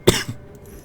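A single short, sharp cough from someone who has just choked on water, close and alone, followed by a faint breathy catch.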